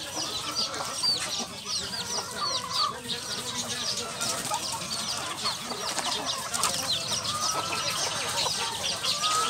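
A flock of Rhode Island and native chickens clucks and chatters continuously at close range, with overlapping calls, occasional louder squawks and a soft rustle of wings.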